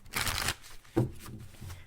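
A quick riffle of a tarot deck being shuffled close by, a burst of papery flutter followed by softer shuffling sounds.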